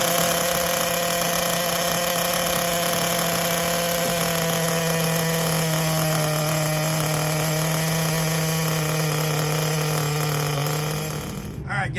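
A CEN Genesis nitro RC truck engine idles through its first break-in tank, with the wheels up off the ground. It holds a loud, steady buzzing drone that stays level, then dips and sputters near the end.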